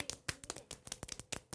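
Quiet, rapid taps of fingers on a palm patter irregularly, mimicking a light drizzle, soft and close with no speech.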